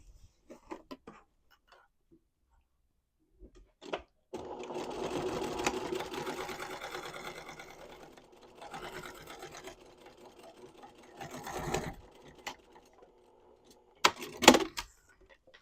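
A sewing machine back stitching the pocket seam of a knit tote bag runs in several bursts, a long steady run followed by shorter stop-and-go passes, close and clear with quiet pauses between.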